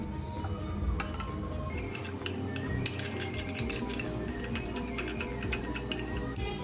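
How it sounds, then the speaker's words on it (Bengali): A spoon clinks and scrapes steadily against a bowl while sauce of dried chili powder and salt is mixed for grilling, producing close, repeated light metallic taps with no talk. "এবার সবকিছু ভালো করে মিশিয়ে নিচ্ছি"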